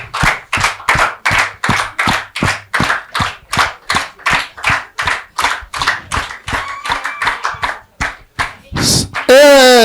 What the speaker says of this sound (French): Applaudissez que Yoro Junior Bissimila.